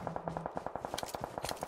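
Rapid automatic gunfire in PUBG Mobile, a quick even burst of about twenty sharp shots heard at a moderate distance, with a couple of louder cracks midway.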